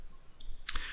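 A single computer mouse click, sharp and close, sounding once near the end while recording starts in microchip electrophoresis software with a C4D contactless conductivity detector.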